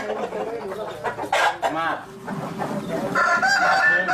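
Fighting roosters of a Burmese crossbreed cluck and crow close by in loud, repeated bursts, with a brief voice speaking among them.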